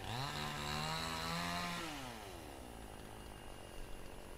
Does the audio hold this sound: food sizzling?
no